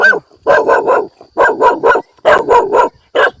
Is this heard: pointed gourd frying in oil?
no